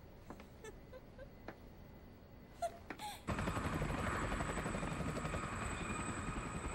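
A helicopter in the Kizumonogatari anime film starts suddenly after a few faint knocks and then hums with a steady rotor drone that holds loud and constant to the end.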